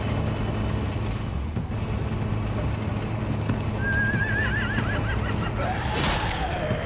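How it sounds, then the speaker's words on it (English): A herd of horses neighs and whinnies over steady clip-clop hooves and a continuous low vehicle rumble, with one long, wavering whinny standing out clearly near the end. "Man, I like it those horses aren't too skittish."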